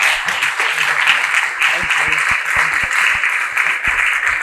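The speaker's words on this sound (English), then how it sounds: "So once again, round of applause." A gathering of Somerset College old scholars in the Oak Lounge breaks into steady applause that fills the room, with some background chatter mixed underneath the clapping.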